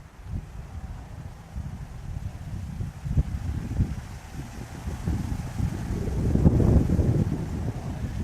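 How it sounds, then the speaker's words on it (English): Gusty wind buffets the microphone in low rumbling surges that swell louder toward the end, with no voices. "Real windy today."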